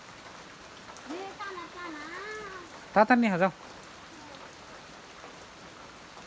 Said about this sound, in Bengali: তো বৃষ্টি হচ্ছে